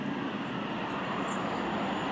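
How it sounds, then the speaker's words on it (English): A Virgin Pendolino electric train passes through South Kenton station on the West Coast Main Line, giving a steady, broadband rush of rolling stock with a faint high whine throughout. "This time it's a Pendolino."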